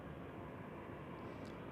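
Condor Airbus A320 at Zurich Airport in crosswinds, a steady broadband engine roar close by and holding level throughout, with no voices.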